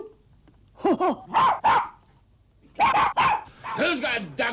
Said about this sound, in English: I thought I heard a dog myself.